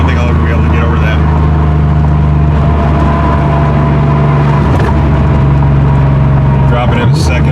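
A Porsche 911 engine runs loud and close with a continuous throaty drone, briefly swelling as the throttle is blipped near the middle and again toward the end.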